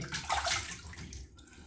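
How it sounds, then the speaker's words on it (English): Warm water splashed onto the face after a shave, close wet sloshing and dripping from a running tap, brief and fairly soft. "I'm just rinsing my face with warm water."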